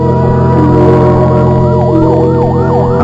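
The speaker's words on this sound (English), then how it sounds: "A fire engine, suddenly screaming through the night, draws her swiftly from her bed to the open window." A fire engine siren in a 1975 radio mystery drama, loud and close, wailing in rising and falling sweeps over a steady low engine drone.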